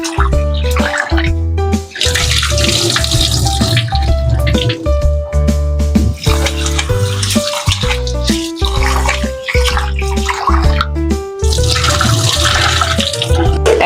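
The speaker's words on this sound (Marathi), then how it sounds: "आता हे परतेपर्यंत आपण तांदूळ धुवून घेऊ. हे 3 पाण्याने स्वच्छ धुवून घ्यायचे." Rice is washed in water in a home kitchen, with loud close sloshing, pouring and splashing that comes in repeated surges and short pauses between rinses.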